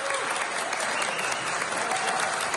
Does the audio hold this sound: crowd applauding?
yes